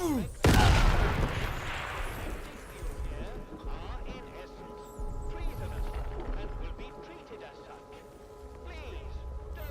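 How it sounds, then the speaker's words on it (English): A grenade blast in the video game Atomfall, a sharp loud burst near the start followed by lingering rumble and scattered game noise, with people talking over it. "Dude, he just dropped a grenade?"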